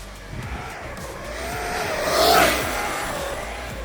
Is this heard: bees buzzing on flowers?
no